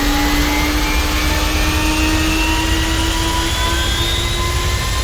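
A Lockheed jet's engines roar loud and continuous during takeoff in the GeoFS flight simulator, a steady whining rush whose tones climb slowly as it spools up, with no voices.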